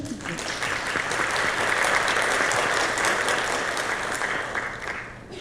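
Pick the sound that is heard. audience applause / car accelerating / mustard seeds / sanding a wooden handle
audience applause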